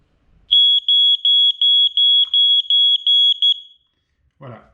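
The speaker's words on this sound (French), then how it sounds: "S'il fait du bruit quand vous appuyez, eh bien c'est que le détecteur fonctionne bien." A smoke detector with a ten-year battery shrieks in a rapid series of loud, piercing pulsed beeps during a button test, then falls silent, followed by a brief voice.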